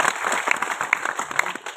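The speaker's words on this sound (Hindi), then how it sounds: "कृपया करके आप लोग जोरदार ताली बजाइए" Audience applause fills a public event hall in answer to a call for loud clapping, a dense continuous wash of many hands at moderate loudness with faint voices mixed in.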